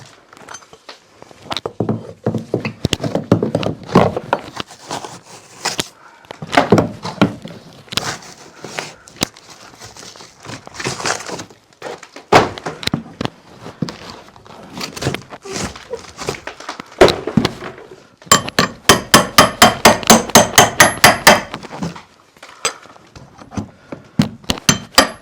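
Sheetrock is hammered and broken off a wall in an old house under renovation, with irregular close thuds, cracks and crumbling knocks, bursts of rapid repeated blows, and short pauses between.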